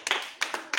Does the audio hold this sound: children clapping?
yes